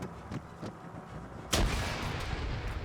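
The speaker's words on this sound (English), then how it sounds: "Another grenade." A grenade bursts in a WW2 battle game, a single sharp blast about halfway through, preceded by faint distant shots and followed by a lingering rumble, all moderately quiet.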